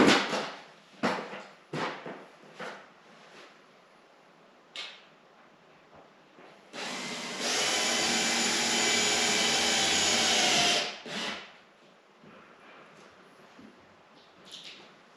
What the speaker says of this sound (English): Next step is to use the self-tapping screws.